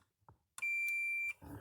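A multimeter set to continuity gives a single clear, steady beep lasting under a second while probing a Gallagher M400 fence charger, with faint handling clicks before and a rustle after.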